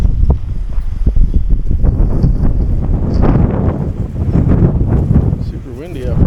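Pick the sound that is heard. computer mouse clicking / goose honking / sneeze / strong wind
strong wind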